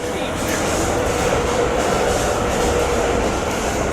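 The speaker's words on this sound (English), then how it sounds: "oh, freight train." A Deutsche Bahn freight train rolls past close by, a loud steady rumble of wagons with rail clatter lasting throughout.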